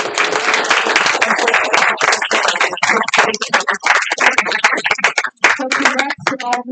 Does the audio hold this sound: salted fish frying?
no